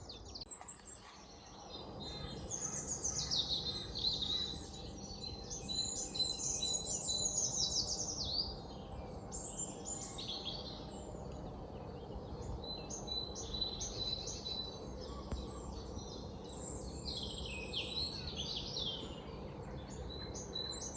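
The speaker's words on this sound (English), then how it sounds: "a bit of soundscape there, but there are several birds" Dawn chorus at a marsh nature reserve in Norfolk, several birds singing and chirping at a distance over quiet ambient background, including reed warbler song, faint and layered.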